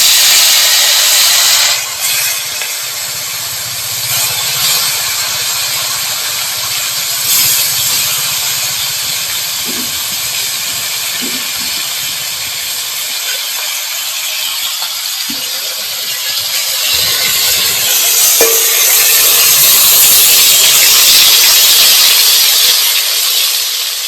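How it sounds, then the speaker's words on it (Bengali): Sole fish fry in hot mustard oil in a wok, a loud, continuous hissing sizzle that holds steady for the whole stretch with a few faint clinks and no talk. "কড়াইতে আমি মাছগুলো দিয়ে মাছগুলো ভেজে নেব"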